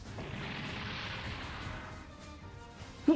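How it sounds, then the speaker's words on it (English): An explosion in the Super Robot Wars Y video game comes through as a steady, fairly faint rolling rumble lasting a few seconds, ending in a sharp thump. "What was that explosion?"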